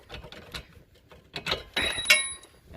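Removing a 15mm shock bolt on a 2005–2014 Ford Mustang: metallic ratcheting clicks and faint tool taps, a brief sharp metallic clink near the end, close and fairly quiet with no talk.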